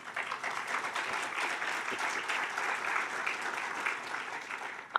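A conference audience at a standing-room morning event in Montreal applauds steadily, a dense, even wash of many hands clapping at once that holds throughout without easing off.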